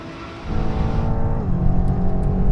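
A BMW M8, a Nissan GT-R and a Ferrari V12 in sporty settings with manually shifted gearboxes roar hard from a 50 mph rolling start, their loud, close engine notes climbing in pitch and dropping at a gear change.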